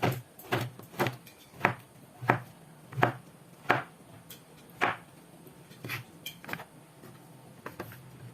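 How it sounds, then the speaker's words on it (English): Oyster mushrooms sliced with a knife on a cutting board: a dozen or so crisp knocks at a fairly even pace, close and clear, with no voices. "Oyster mushroom. Just slice it this thick."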